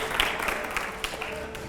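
Audience applause at a live public talk event with BJP MP Ravi Kishan, a steady wash of many hands clapping at moderate volume with a few sharper claps standing out.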